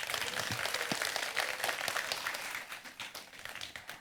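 Audience applause at a Korean lecture event greeting a middle-school student speaker as she comes to the stage, with many hands clapping in a dense continuous burst close by that tapers off toward the end.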